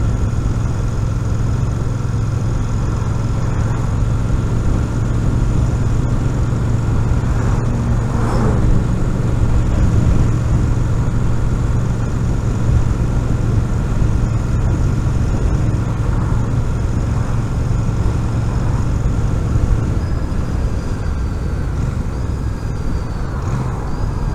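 A Royal Enfield Super Meteor 650 motorcycle engine drones steadily while riding on the road, a constant low hum mixed with road and wind noise, with no break for over twenty seconds.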